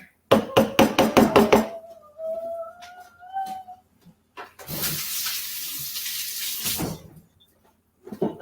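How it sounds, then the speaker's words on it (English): Water runs from a kitchen tap for about two seconds while hands are washed during noodle preparation, steady and fairly loud, after a burst of rapid knocks and a brief thin whistling tone. "so I just have to wash my hands"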